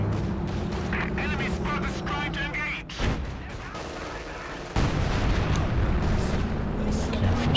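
An artillery barrage in the Company of Heroes 2 video game booms and rumbles in heavy, overlapping blasts with scattered gunfire, a caster talking over the din.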